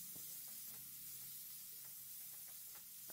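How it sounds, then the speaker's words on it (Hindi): Chana dal frying in oil for red saag and chana dal, a steady soft sizzle with faint stirring scrapes throughout, quiet and close, with no talking. "उसके बाद हम चना दाल को डाल लेते हैं और 1 मिनट के लिए चना दाल को भी भून लेंगे।"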